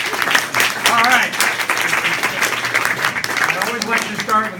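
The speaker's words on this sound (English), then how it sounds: "Clap your hands" Audience clapping their hands at an Inspire talk, a lively mass of claps with cheers and voices mixed in, loud and close, slightly easing toward the end.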